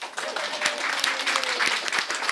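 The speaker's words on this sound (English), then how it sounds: "We can clap for that." Applause from the audience at a board of education meeting, a lively burst of clapping heard close and fairly loud, with voices faintly mixed in beneath.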